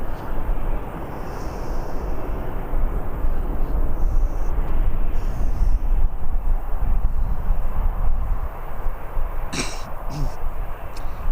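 A Jet2-operated airliner arriving from Naples rumbles into Birmingham Airport, a loud, steady broadband roar with wind buffeting and a person talking over it.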